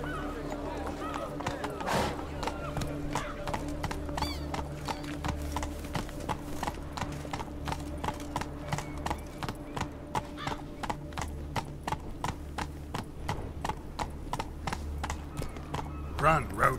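Roach the horse gallops in The Witcher 3: Blood and Wine, steady rapid clip-clop hoofbeats running throughout with a brief whinny near the start, a low music or ambient bed underneath.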